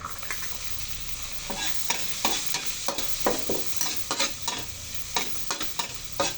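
Garlic and onion sautéing in a pan while pork ginisa for misua is made, a steady sizzle broken by a run of sharp, regular scraping stirs close by, with no talk.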